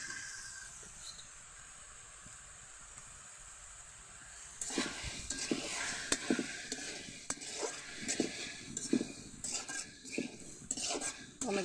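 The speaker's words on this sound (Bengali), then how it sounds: "টমেটোটা না গলা পর্যন্ত নাড়তে থাকবেন।" Garden-picked tomatoes cook in a pan with panch phoron, quiet at first, then stirred briskly with repeated metallic scrapes and clinks over a soft sizzle.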